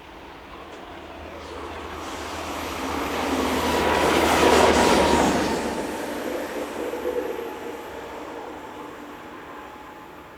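A pickup freight train hauled by locomotive 42283 rolls past near Olten, Switzerland, bound for the sidings at Wangen; the rumble builds to a loud peak with wheel clatter and a faint squeal, then fades as it moves away.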